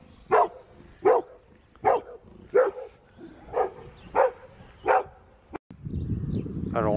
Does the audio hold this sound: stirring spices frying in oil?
no